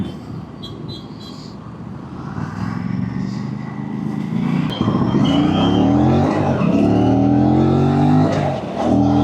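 An Aprilia RS 457 motorcycle engine revs hard while riding, rising harmonic pitch sweeps climbing repeatedly as it accelerates, loud and close with steady wind and road noise throughout.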